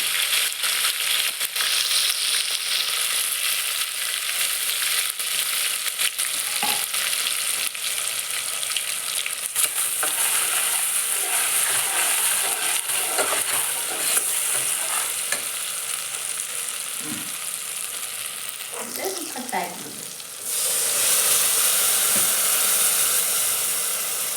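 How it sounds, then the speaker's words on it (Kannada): Tomato and chili frying in oil for red chutney, a steady loud sizzle with stirring scrapes and crackles throughout, close up with no talking. "ಈಗ ಟೊಮೆಟೊ ಸ್ವಲ್ಪ ಎಣ್ಣೆಗೆ ಖಾರ ಹಾಕ್ತೀನಿ"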